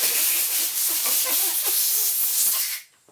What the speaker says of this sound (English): Get your air compressor,